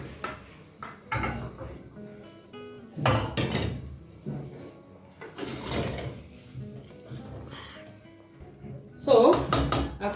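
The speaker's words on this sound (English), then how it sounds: "I want to transfer it into a flat pan." Stir-fried beef is moved into a flat pan in a home kitchen, giving intermittent metallic clatters, scrapes and knocks of cookware in several bursts, the loudest near the end, with muffled voices in the background.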